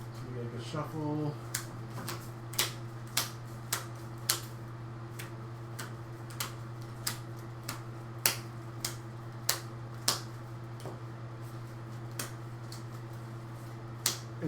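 A deck of playing cards is shuffled during a tabletop card game, with sharp, separate riffling clicks and snaps coming at irregular intervals over a low steady hum, close and fairly quiet.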